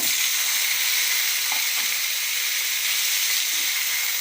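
Ridge gourd peel sautés in a pan, giving a steady, loud hissing sizzle with faint occasional stirring touches throughout.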